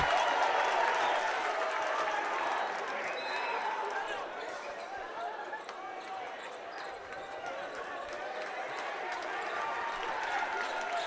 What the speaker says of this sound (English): So this crowd coming alive as the game comes alive.